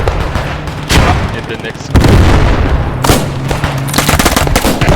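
Rapid gunfire bursts from rifles in Squad 44, a WWII shooter game, crack and boom loudly in repeated volleys, with someone speaking briefly over the shots.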